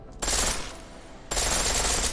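Pistol from Deus Ex: Mankind Divided firing in full auto, two loud sustained bursts of rapid shots separated by a short gap, close and alone.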